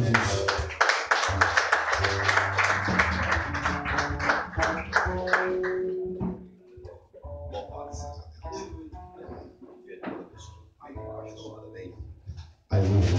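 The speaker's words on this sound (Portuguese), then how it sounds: "Venha aplaudir o nome do Senhor Jesus." A church congregation clapping together, dense rhythmic applause over a preacher's voice, then fading to scattered claps as he keeps talking.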